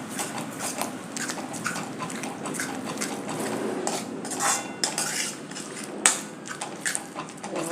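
A spoon scrapes and clinks against a pan while stirring curry with cream for an aloo matar paneer dish, giving repeated metallic knocks and scrapes at close range, with one sharper clank near the end.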